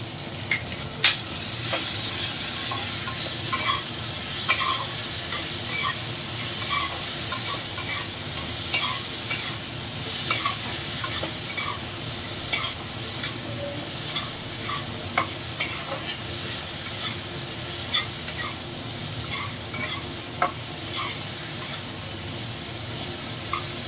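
Ginger garlic paste and Kashmiri chili powder fry in a pan with a steady close sizzle, while a utensil scrapes and stirs in frequent soft, regular strokes.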